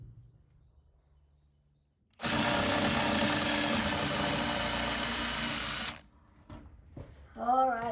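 A power drill drives 38mm screws into a wall in a garage workshop: after two seconds of quiet comes one loud, sustained whirring burst lasting almost four seconds, followed by a brief shorter whir and then a voice.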